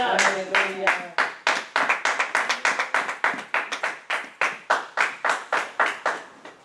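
A church congregation bursts into clapping, a brief voice leading into many sharp, rhythmic claps in a steady beat, close and loud.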